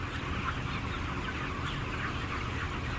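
Many chickens in a barn clucking and murmuring together at a low level, a steady flock chatter with a few brief louder calls, no talking.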